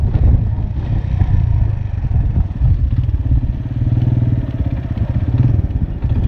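A Suzuki GS 150 motorcycle engine putters steadily while riding, a close, moderately loud single-cylinder thrum with slight clattering and wind buffeting throughout.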